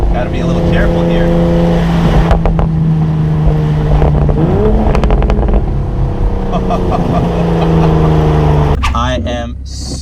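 A 2020 Toyota GR Supra with an FI exhaust rumbles loud and close throughout, its note swelling as the engine revs and settles, with a burst of mechanical noise near the end.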